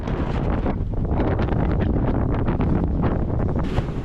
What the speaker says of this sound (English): sometimes we'll get a stronger gust at deck level, and then sometimes it'll be stronger gust up at the above